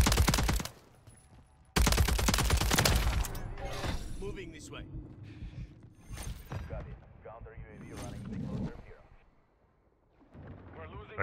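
AMR9 submachine gun hip-fired in Modern Warfare III, loud rapid bursts of automatic gunfire separated by short pauses, with someone talking over the shooting.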